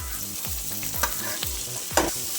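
Mixed vegetables for paneer fried rice sautéing in a pan, with a steady close sizzle and repeated scraping stirs of a spoon about every half second, no voices.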